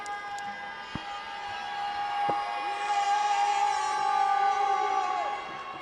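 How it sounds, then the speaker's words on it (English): Loud, steady crowd roar fills a college basketball gym during free throws, Kentucky State at Lane College, with sustained tonal whistles or horns over the din and a couple of sharp knocks. "Despite the very loud crowd noise behind us."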